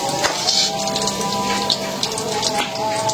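Onion, garlic and green chilli fry lightly in oil with a steady, close hiss and crackle, laid over faint background noise.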